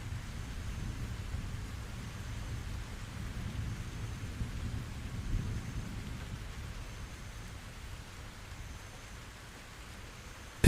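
Steady rain pours down with a low, distant rumble of thunder beneath it, a soft continuous wash that stays even and fairly quiet throughout.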